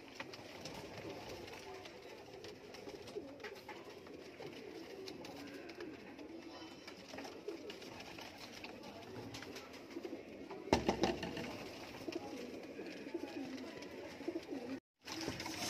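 Soft, continuous coos of Teddy cross pigeons over a low background hum, with a brief louder rustle near the end and a short dropout.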